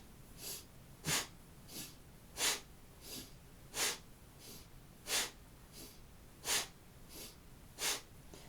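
Forceful rhythmic breathing in a kriya yoga exercise, inhaling and exhaling in alternation, about a dozen sharp breaths over several seconds, with louder strokes alternating with softer ones, close and clear with no talk.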